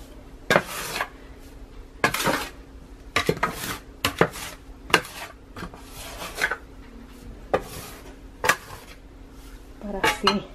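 Gordita dough being mixed with flour in a bowl, with repeated clinks and scrapes of a utensil against the dish in an irregular rhythm over a low steady background hum.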